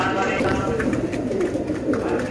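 Pure Sialkoti pigeons cooing in a low, continuous murmur close by, with someone talking over the birds throughout.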